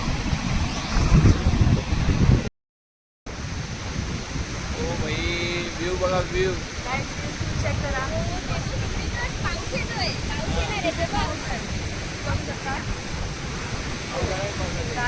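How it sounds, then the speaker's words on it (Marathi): Continuous roaring wash of rough sea waves, loud and wind-blown, with someone speaking over it throughout and a brief gap early on. "खवळलेला समुद्र खवळलेला"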